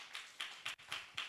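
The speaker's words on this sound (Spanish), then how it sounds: "Demos un fuerte aplauso al Señor en esta preciosa tarde." A short burst of rhythmic claps from a church congregation, about five evenly spaced, soft and somewhat distant, like a small group clapping together.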